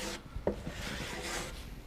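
Cloth wiping wet wood pore filler off the back of a guitar body, a close, steady rubbing swish with a brief louder scrape partway through, no voices.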